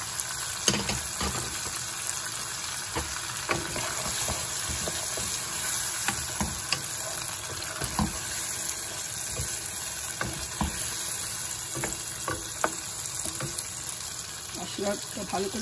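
Peas and spices frying with potatoes in oil in a pan, a continuous close sizzle punctuated by frequent knocks and scrapes of a spoon stirring, with no voices.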